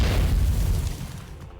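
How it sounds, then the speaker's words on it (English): Video game artillery booms and gunfire from Nikke, including an anti-ship rifle, erupt as a loud, low blast that rolls and fades over about a second and a half. "There's a cacophony of noise as Snow White's gunfire melds with artillery fire from off in the"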